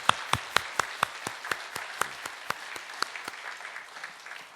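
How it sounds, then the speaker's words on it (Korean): A church congregation clapping to welcome visitors from Russia and Kazakhstan, with loud, distinct claps in a fairly regular rhythm close by, backed by a softer mass of applause that gradually blurs together. "박수로 환영하겠습니다."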